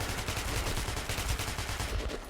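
Dense, continuous gunfire in Metro Last Light Redux, with rapid automatic bursts running steadily through the whole moment at high intensity and no talking over it.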